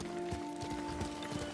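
Horse hooves clip-clop at a steady trotting rhythm in the video game Ghost of Tsushima, soft and close over a sustained background tone, with no talking.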